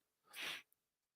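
A single quick, breathy sneeze-like burst, short and fairly faint, followed by a tiny click and then quiet.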